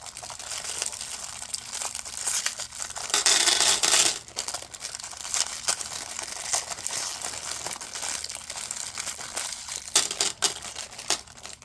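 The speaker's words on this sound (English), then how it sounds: "We're just gonna cut this bag apart." Scissors snip and crinkle through a plastic bag, with rustling and crunching bursts, one louder stretch of crackling partway through.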